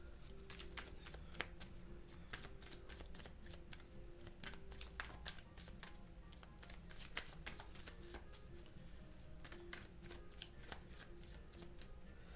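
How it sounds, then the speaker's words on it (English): Oracle cards being shuffled by hand in a quiet room, a steady run of soft riffling flicks and light card slaps close to the mic, with no talking. "let's get a couple of cards here, a couple of oracle cards."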